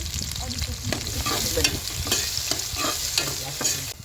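Onions frying in a pan for a village-style roasted mutton dish, a close, continuous sizzle with stirring scrapes and small clatters, no voices.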